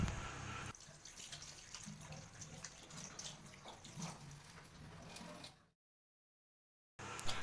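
Hand washing with soap under a running tap: steady splashing water with scattered drips, fairly faint, runs for several seconds and then stops abruptly before a short burst returns.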